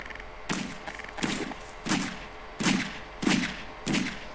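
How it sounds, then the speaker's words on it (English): Six sharp shots from dual revolvers fire in a video game at a steady, unhurried rhythm. Each is a loud, punchy crack with a thumping low tail, and no voices are heard. "And now I have fucking dual revolvers for some reason."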